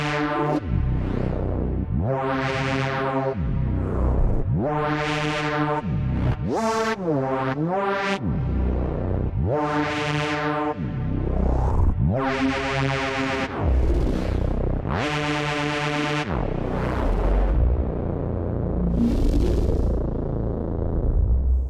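Contemporary FM synth tones from a Korg Opsix ring out in a series of bold, harmonically rich notes with swelling attacks, pitch bends and decaying tails, loud and upfront with no talking.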